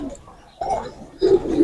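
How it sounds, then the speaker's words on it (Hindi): Cooing from Bullet breed pigeons on a rooftop loft, a few soft, low throaty calls in separate bursts with brief pauses, close by and moderately loud. "ये दोस्तों ये बुलेट कबूतर है चैंपियन छत के"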